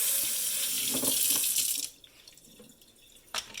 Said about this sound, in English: just run cold water over your eggs